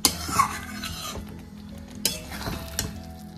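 Chicken biryani masala, with already-boiled chicken and water added, sizzling and being stirred in a pan, with scraping utensil knocks over a steady low frying hiss; no talking.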